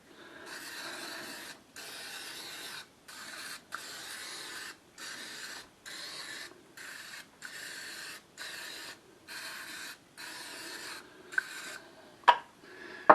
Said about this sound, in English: we need to spray this one